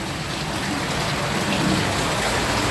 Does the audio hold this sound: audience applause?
no